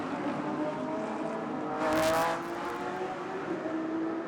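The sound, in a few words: GT race cars accelerating at race start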